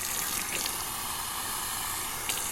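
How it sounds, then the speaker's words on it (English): Water streams onto a puck of sandalwood shaving soap, a dense, continuous splashing hiss that is close and loud, with no speech. "I'm going to put some water on this"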